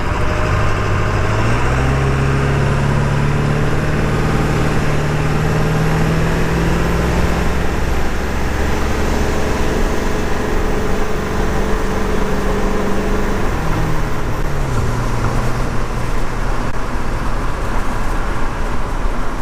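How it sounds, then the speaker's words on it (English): A Ford 7.3 Powerstroke diesel engine with a foil delete runs steadily, a low continuous rumble with a drone that shifts pitch slightly, heard from inside the truck. "I'm hearing more of the engine noise"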